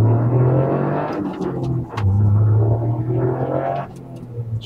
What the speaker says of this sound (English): Okay, so we're gonna do a first gear pull like this a bit.